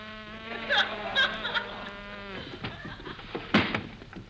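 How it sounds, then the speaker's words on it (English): A buzzing bee sound effect in an old-time radio comedy show, a thin wavering drone that swells and fades in short bursts over a musical tone, with a few brief voice-like sounds and laughter. "That's a bee. He's still working on it."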